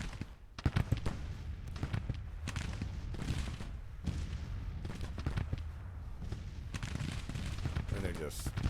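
Close-range battlefield gunfire from Grand Tactician: The Civil War during the Battle of Antietam, with dense musket volleys and scattered shots crackling continuously, loud and sustained, with occasional heavier bursts throughout.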